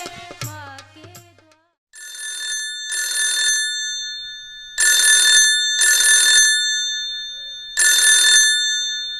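Telephone ringing loudly in bursts of electronic trilling, about five rings separated by short gaps, following a brief snatch of music at the start.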